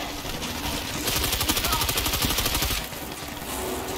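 Rapid automatic gunfire from the World War Z Aftermath shooter game, set in snowy Kamchatka, rattles in a dense continuous burst for a couple of seconds amid ongoing combat noise.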